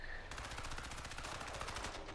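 Rapid automatic gunfire in Crysis 3 multiplayer during a Crash Site match on the Airport map, a dense continuous burst of shots lasting about two seconds, loud and close.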